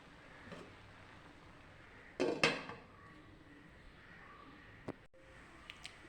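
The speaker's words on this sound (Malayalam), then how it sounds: "മൂടി വെക്കാം. എന്നിട്ട് ഒന്നും കൂടി നമുക്ക് അടച്ച് വെക്കാം." A metal lid clatters onto a cooking pot of jackfruit with its coconut paste, giving a sharp clanking burst followed by a few faint light clinks in an otherwise quiet kitchen.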